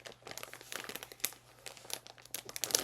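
Plastic packaging is cut open along its edge, giving a steady run of close crinkling, crunching and tearing noises with no talking.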